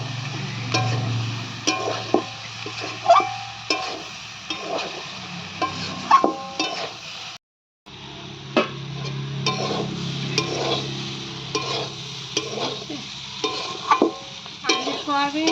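Potatoes, soybean chunks and capsicum are stir-fried in a pan: a soft sizzle runs underneath while a spatula scrapes and taps the pan in irregular knocks. The sound drops out briefly midway.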